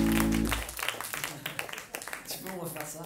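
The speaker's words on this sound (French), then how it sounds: "Faut l'applaudir." Scattered audience applause at a live acoustic radio session, following a brief tonal musical note and mixed with talk on stage.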